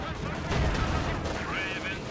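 Rapid machine-gun fire from upgraded MG42s in Company of Heroes 2, a dense loud rattle of shots with booming battle noise, under a commentator talking.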